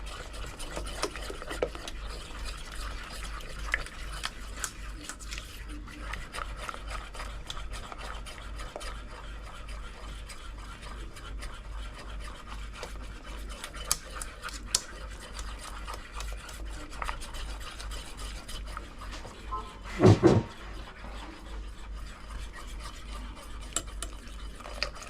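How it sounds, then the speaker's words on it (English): A spoon steadily scrapes and stirs a thick sharp cheddar cheese sauce in a pot, a continuous close rasping rub with one louder clatter near the end and no talking. "You kind of gotta stir it"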